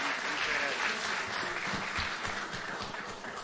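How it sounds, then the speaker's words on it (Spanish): An audience applauds at a music tribute ceremony honoring a musician's centenary. The clapping is dense, sustained and fairly loud, filling the room and easing slightly toward the end, with faint voices mixed in. "Fuerte aplauso."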